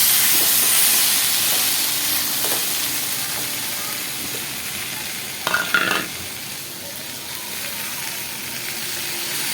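Potatoes and eggplant frying in a pan, a soft continuous sizzle and hiss that fades gradually, with a brief clatter of stirring midway.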